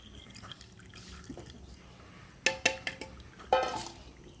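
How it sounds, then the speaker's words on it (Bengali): Bael sherbet, a wood apple drink, strained slowly through a kitchen strainer, with faint liquid dripping and a short cluster of small splashes and drops into a bowl; quiet and close, no talk. "এরপর ছাঁকুনি দিয়ে আস্তে আস্তে ছেঁকে যাচ্ছে"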